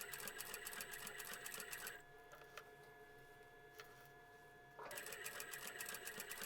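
A sewing machine stitches an apron seam for a plush lamb toy, running in two steady, fairly loud whirring bursts separated by a quieter pause with faint handling noises.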